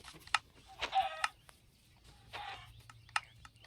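Minecraft chicken clucking in the game, a few short, close bursts of clucks and squawks separated by brief pauses over a faint low background hum.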